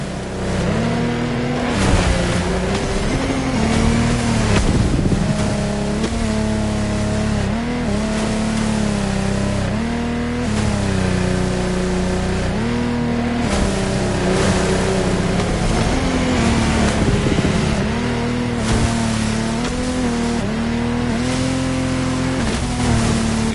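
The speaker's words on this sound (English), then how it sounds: "You heard it, a boat made by Lamborghini" A Lamborghini Shark speedboat engine in the video game The Crew Motorfest roars loudly and throatily, its pitch rising and falling as it revs and shifts, with rushing noise around it.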